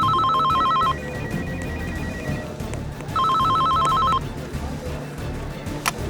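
A telephone rings unanswered in a Roblox game, two loud bursts of electronic trilling about two seconds apart over a low background murmur.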